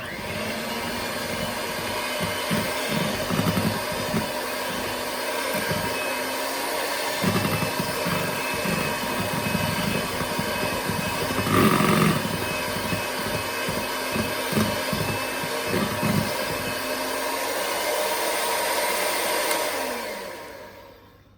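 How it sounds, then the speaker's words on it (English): Electric hand mixer whipping peppermint mocha cupcake frosting, a steady loud motor whir with faint beater rattle lasting about twenty seconds before winding down, no talk. "I'm gonna mix this in again with the mixer."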